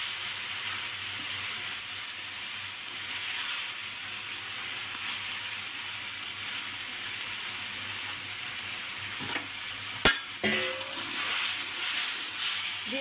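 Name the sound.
tilapia fish frying in spice paste with drumsticks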